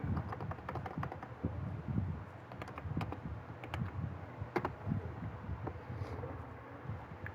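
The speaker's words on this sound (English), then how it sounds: "I'm typing it in according to what you say" Fingers typing on a computer keyboard, producing faint, irregular runs of quick key taps with short pauses, heard alone without voices.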